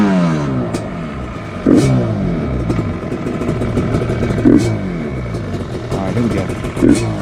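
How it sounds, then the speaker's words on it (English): A Yamaha Banshee ATV engine revs repeatedly with a buzzy, raspy two-stroke note, its pitch sweeping up and down between sharp throttle blips, loud and close. "this thing sounds so good. Give that thumbs up if you like the sound of Banshee."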